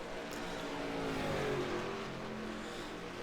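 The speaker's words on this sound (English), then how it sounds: "listen to some of the sight sounds out here of these cars as they roar around this track" Engines roar continuously as race cars drive around Dover in iRacing, their pitch rising and falling as they pass, loud and steady throughout.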